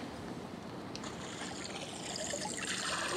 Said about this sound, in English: It starts playing the sounds of the evolution of transportation in the area. Everything from the sounds of the French Broad River to horses